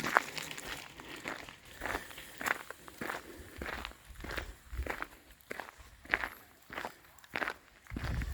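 Loud footsteps crunch along a forest path in Switzerland, a steady walking rhythm of distinct crinkling steps close by, with no talk over them.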